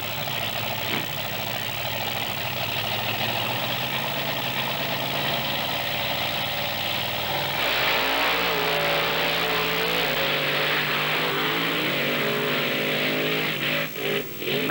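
Monster truck engines at a 1996 beach race rev loudly and continuously, a deep idling rumble building into a surging, higher roar midway, with pitch swings near the end.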